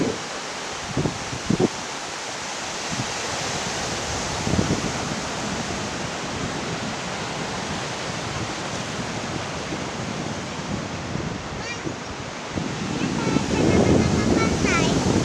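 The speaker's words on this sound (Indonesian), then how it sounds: "Ombaknya besar deh, deburan ombaknya." Big ocean waves crash and wash on Pariaman beach, a dense, continuous surf roar with wind, swelling louder near the end, with a few faint voices in the background.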